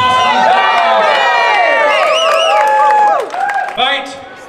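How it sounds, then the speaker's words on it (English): Crowd cheering and whooping at a full-contact medieval combat bout in Perth city centre, loud excited shouts and whistles rising and falling, close by, with voices calling out throughout. "Come on, cheer him on,"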